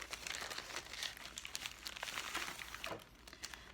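Paper packaging crinkles and rustles steadily as it is pulled off a subscription craft box bag, with dense close crackling throughout and a few sharper tearing crunches, no voices.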